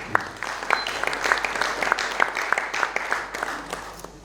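Applause welcoming a swami at an ashram gathering on dharma and business ethics, a moderate crowd clapping with distinct sharp claps standing out over a steady patter.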